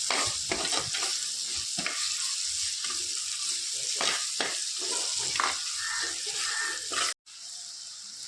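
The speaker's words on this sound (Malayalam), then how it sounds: "ആവശ്യത്തിന് മഞ്ഞൾപ്പൊടി ചേർത്ത ശേഷം നമുക്ക് ഒന്ന് വഴറ്റിയെടുക്കാം" Turmeric powder for fish curry is sautéed in a pan, spoon strokes scraping rhythmically over a constant sizzle, close by, ending with a brief sharp cut before the frying hiss resumes.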